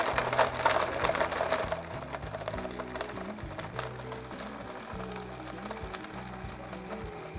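An electric blender whirs loudly and steadily up close, churning a piña colada cocktail in one continuous run with a rough, rattling motor drone and no talking.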